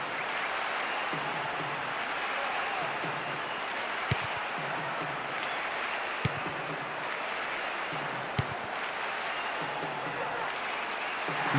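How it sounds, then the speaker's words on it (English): A stadium crowd in a football video game applauds and roars as a steady, dense wash throughout, with a few faint sharp knocks on top. "The crowd really approved."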